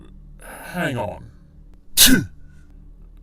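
One sharp, explosive sneeze bursts out close by, just after a person says a brief phrase, then quiet returns.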